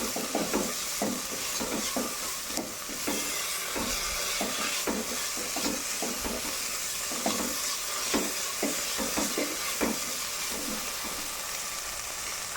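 Tomatoes tossed into onions frying in coconut oil for a chickpea curry give a continuous sizzle and hiss, broken by frequent rhythmic stirring scrapes and taps in the pan.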